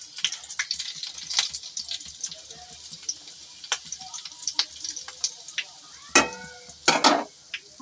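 Whole spices and curry leaves crackle in hot oil, soft popping and spitting sounds scattered irregularly with a few sharper, louder bursts near the end, up close in a home kitchen.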